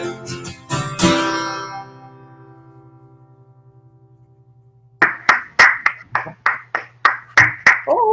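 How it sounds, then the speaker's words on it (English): A small audience claps at a remote folk music show, a short burst of sharp, separate hand claps close to the microphone following a fading sung note. "Yeah, real applause!"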